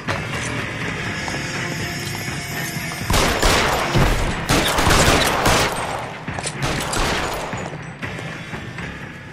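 Dense gunfire from L.A. Noire, a bustling fusillade of rapid shots over a constant background din, growing louder and more chaotic midway before easing slightly toward the end.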